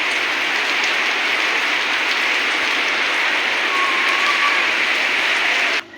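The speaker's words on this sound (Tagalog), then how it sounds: "Lakas ng ulan mga kagwang, oh." Heavy rain pours steadily in a dense, hissing wash, loud and unbroken, cutting off abruptly at the end.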